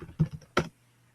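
Computer keyboard typing during a Salesforce Service Cloud knowledge search: a few quick, close key taps followed by one sharper keystroke, then quiet.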